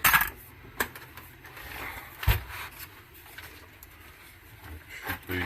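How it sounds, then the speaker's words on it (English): A cassette tape is removed from a Lasonic TRC-975 boombox, producing a few sharp plastic clicks and clunks spread apart, with one heavier knock in the middle and faint handling noise between them. "Take the tape out."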